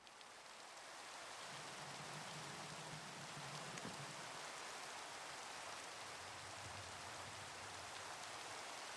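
Steady rain pours in a Minecraft world, a dense, even hiss that rises in the first second and then holds constant with no talk over it.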